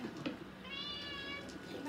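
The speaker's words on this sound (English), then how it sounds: "Come here, Kitty" A cat meows inside the Minecraft video game, a single drawn-out, fairly clear call over steady game background noise.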